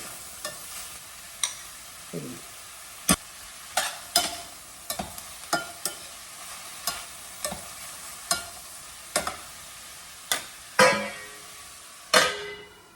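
Thinly sliced onions and gourd frying slowly in a pan over low heat, with repeated sharp, separate clacks of a spatula stirring against the pan over a faint background sizzle, close, with no speech.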